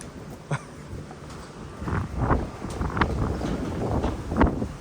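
Night wind blows across an open horse farm, a steady rushing roar that swells in gusts and buffets the microphone, with faint rustling and no voices.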